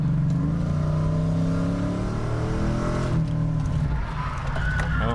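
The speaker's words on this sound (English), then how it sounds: "Oh, too hard on the brake." Car braking hard during stunt driving practice at a stunt school, engine droning loudly throughout with a tonal tire squeal rising near the end, close and continuous.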